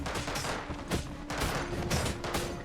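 Sharp gunshot bursts from a dwarf sniper unit in a roguelike deckbuilder game crack out in a rapid series of several loud reports, close and punchy, with no talk over them.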